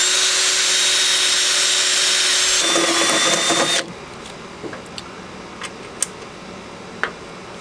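A power drill bores a hole in a car's steel frame rail for a rivnut, whining loudly and steadily for several seconds before stopping abruptly, followed by a quieter stretch with a few sharp clicks and knocks.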